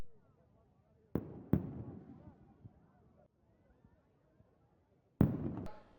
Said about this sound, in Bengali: পাশাপাশি আতসবাজির প্রদর্শন সেই ছবিও আপনাদের দেখাচ্ছি